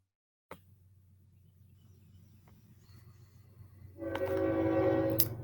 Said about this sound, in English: this would be the exact moment that the giant train would decide to go by my house